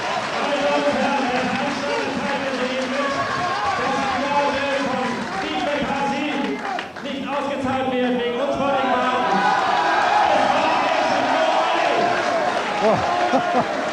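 A boxing crowd at the Steve McCarthy vs Dariusz Michalczewski fight gives a boxer a round of applause. The dense arena noise of clapping and shouting runs steadily throughout, with commentary voices over it.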